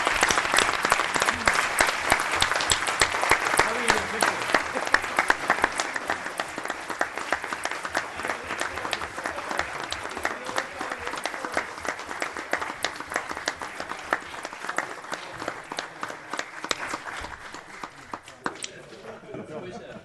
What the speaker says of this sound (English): how about a great round of applause for our state champions?